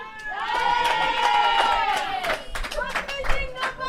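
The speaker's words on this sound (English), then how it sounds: "You can clearly hear the supporters now cheering for the Lions." Supporters cheer for the Lions at a girls' under-16 cricket final, a loud crowd of shouting, whooping voices that holds steady and then breaks into scattered excited calls.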